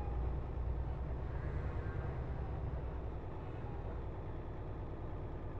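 Steady low rumble of a Mercedes truck engine in Euro Truck Simulator 2, a continuous drone with no rise or fall and no talk over it.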